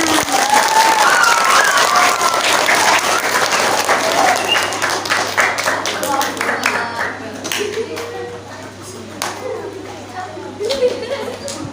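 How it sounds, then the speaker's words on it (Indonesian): Applause at a Khotmil Qur'an graduation ceremony at an Islamic primary school during Ramadan, sustained crowd clapping over about twelve seconds, loud at first and then thinning, with chatter and voices mixed in. "Tepuk tangan"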